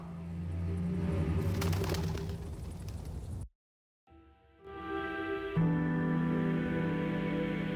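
Bird calls in the video game Shardlight, with cooing, pigeon-like tones rising over a noisy ambient bed after a brief drop to silence, moderately loud and steady.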